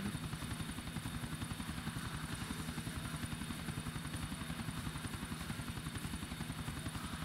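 A helicopter flies steadily in Grand Theft Auto IV, its rotor thudding in a fast, even pulse that stays loud and close throughout with no talking over it.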